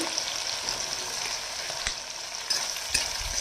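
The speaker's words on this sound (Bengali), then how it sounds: "পেঁয়াজটাকে বেরেস্তা করার জন্য একটু লাল লাল ভাজা হবে" Chopped onions with a little sugar fry in oil until reddish-brown, giving a steady close sizzle with a few sharper crackles and pops, no voices.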